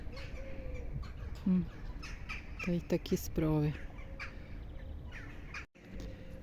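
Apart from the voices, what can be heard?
crows cawing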